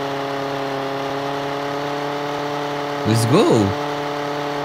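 A steady buzzing vehicle engine drone in GTA San Andreas Remastered, with a tonal hum like a lawnmower motor, interrupted near the end by a short excited voice.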